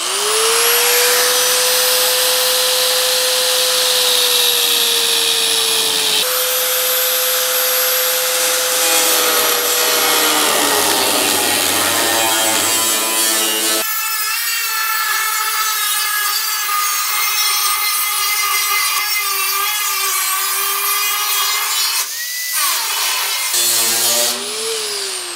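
A reciprocating saw cuts through the steel quarter panel of a GTO restomod, a loud, continuous buzzing rasp with shifting pitch that runs for the whole stretch, alone and up close.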